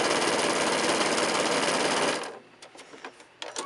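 A sewing machine runs loud and fast, back stitching on a drawstring bag, then stops abruptly, leaving a few faint clicks and handling taps.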